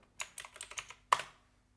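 Keystrokes on a computer keyboard as a short terminal command is typed: a quick run of about six close, distinct clicks, then a brief pause and one louder final keypress, like hitting Enter, in a quiet room.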